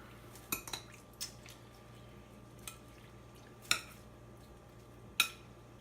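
A utensil stirring pickles in a bowl, heard as a handful of sparse, sharp clinks and taps against the bowl over a quiet, faintly humming background.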